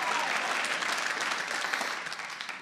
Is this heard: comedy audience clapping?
yes